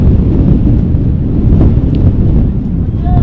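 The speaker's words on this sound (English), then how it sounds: "Wind starting to pick up here in Baker Field. It had been gusting up between 10 and 15 miles per hour at times." Strong wind gusts buffet the microphone at Baker Field, an outdoor sports field, producing a loud, constant low roar with rumbling turbulence throughout.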